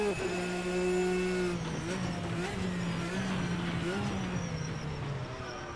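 RSS GTN race car in Assetto Corsa under hard throttle, a steady loud engine drone with small pitch shifts between gears, continuous and close, with a voice talking over it.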